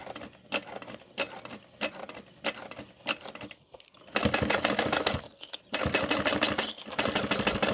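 A sewing machine stitches around the back panel of a sewn project, running in short bursts of rapid mechanical clatter at first, then in louder, longer continuous runs, close up with no talking.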